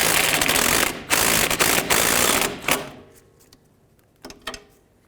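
Rapid ratchet clicking while tightening a 12mm bolt on a 2002-06 Toyota Camry rear strut, a dense burst of clatter for a few seconds, then a quieter pause and a couple of short final clicks.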